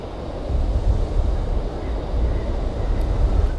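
Water sprays in the video game Syberia, a dense continuous hiss and rush with a low rumbling body, steady and fairly loud throughout with no voices over it.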